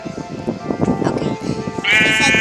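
A sheep bleats in the Minecraft Skyblock video game, a short wavering bleat at the end over a speaking voice and background game sounds.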